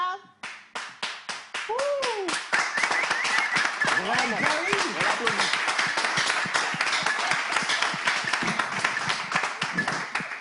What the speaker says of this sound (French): Dépose le micro et applaudis